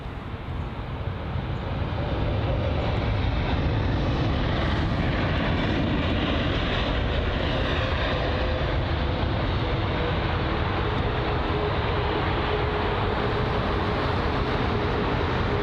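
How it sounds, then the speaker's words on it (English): Virgin Atlantic Airbus A330neo jet at London Heathrow, a loud broadband engine roar that swells within the first two seconds and holds steady and dense throughout. "here's the A330 Virgin Atlantic Neojet"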